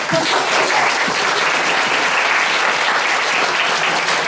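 Concert audience applauding steadily and loudly throughout, a dense wash of many hands clapping with no talk over it.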